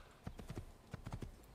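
A horse's hooves clip-clop in the Assassin's Creed video game, a quick series of faint, close hoofbeats in uneven rhythm with a short pause between groups.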